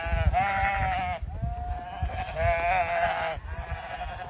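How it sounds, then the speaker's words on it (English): Young yearling sheep, last year's lambs, bleat repeatedly and loudly at feeding time in hilltop farm fields, several overlapping wavering calls in quick succession, close by. "So we're up in the top fields, feeding the shearlings. So these are last year's lambs."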